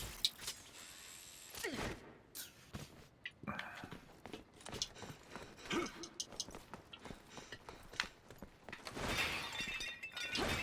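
Pots and vases shattering in Resident Evil 6, a rapid series of sharp crashes and breaking ceramic bursts scattered across the scene, fairly close, with faint game ambience between them.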